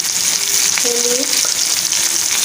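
Onion, green chili, tomato, salt, turmeric, chili powder, cumin powder and ginger-garlic paste sauté in hot oil for a prawn dish, giving a loud, continuous close sizzle with a faint tonal sound in the background.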